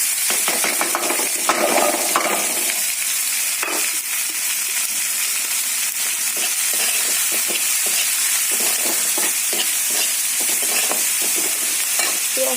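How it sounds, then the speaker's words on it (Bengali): Dry red chillies and chopped onion crackle in hot oil with cumin, a steady close sizzle running throughout with scattered sharp pops and the occasional clink of a stirring utensil. "দিয়ে দেবো শুকনো লঙ্কা দিয়ে দিচ্ছি পেঁয়াজ কুচোনা"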